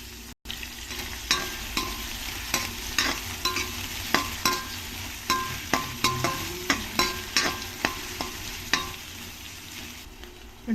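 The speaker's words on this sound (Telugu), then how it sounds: "ప్యాన్ హీట్ అయ్యాక ఇందులో కొద్దిగా ఆయిల్ వేసుకొని ఇందులో సన్నగా కట్ చేసి పెట్టుకున్న ఉల్లిపాయ ముక్కలు" Onion slices sizzle and fry in hot oil in a pan, a steady crackling hiss broken by a regular series of scraping stirs, close and alone with no voices.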